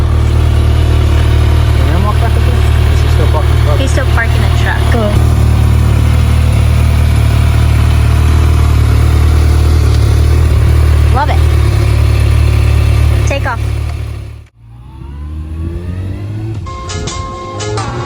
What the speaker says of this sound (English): 2021 Kawasaki ZX6R.